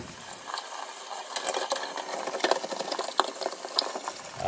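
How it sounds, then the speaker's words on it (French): A brush scrubbing a plastic flush part from a Geberit wall-hung toilet, producing faint, irregular scratchy strokes and light clicks over a few seconds. "je vais évidemment bien brosser cette pièce"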